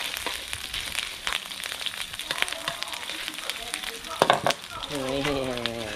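Thai curry paste fries in a hot pan for choo chee river catfish, a close, continuous crackling sizzle with stirring scrapes, and a person speaking over it toward the end.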